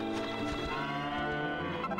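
A cow in Dragon Quest VIII gives a steady, drawn-out moo that fills the whole stretch, close and even in level with no talking over it.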